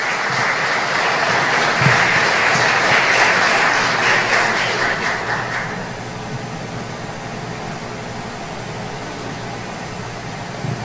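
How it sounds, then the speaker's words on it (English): Audience applause at a tribute ceremony honoring Belizean patriots, a broad steady wash of clapping from a crowd that fills the first half and then thins to a quieter murmur of room noise. "Another round of applause for Ms. Popkoa."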